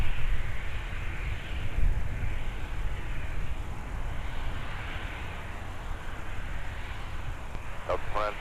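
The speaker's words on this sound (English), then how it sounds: "It's got another inbound arrival at runway 30 left." Arriving airliner on runway 30 left at MSP airport on a muggy winter day, a broad steady engine roar and rumble filling the whole stretch, with a faint voice near the end.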